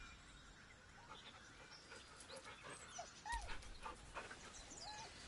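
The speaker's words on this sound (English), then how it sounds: "The dog whimpers nervously," A dog in the video game Baldur's Gate 3 whimpering nervously, with soft rising whines and light panting over a quiet ambient background.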